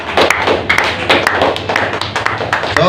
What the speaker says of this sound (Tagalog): Sabay-sabay po na palakpak.